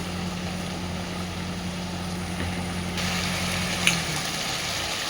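Bhola fish curry bubbling and frying in oil in a pan, a steady close sizzle and simmer with a low hum underneath and a brief clink near the end.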